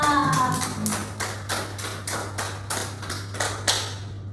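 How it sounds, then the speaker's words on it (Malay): A class claps for itself in a classroom: crisp claps in unison, roughly three per second, keeping an even rhythm over a low steady hum. "Bagi satu tepukan untuk diri semua."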